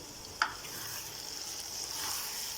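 Chopped tomatoes and tinda fry in a pan with a steady, close sizzle throughout, broken by one sharp clink of a utensil near the start.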